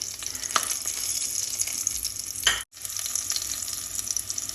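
Three green chillies fry in a pan for jeera rice, giving a steady, close hiss of oil with crackles and pops that cut out for a moment before carrying on.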